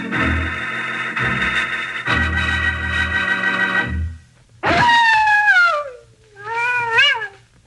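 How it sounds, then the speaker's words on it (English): In a 1952 Western, a coyote howls twice, long, wavering, rising-and-falling cries at night, heard after a stretch of sustained orchestral chords. "that's the howl of a coyote"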